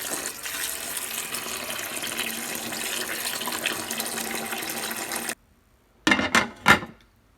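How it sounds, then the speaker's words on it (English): Water pours steadily into a slow cooker holding grapefruit peel and lemon for about five seconds, then stops; after a short pause come a few brief splashy gushes. No talking. "and then we're going to cover it with water."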